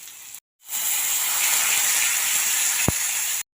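Onion paste lands in hot oil in a home kitchen, giving a sudden, steady, loud hiss that holds for about three seconds and then cuts off.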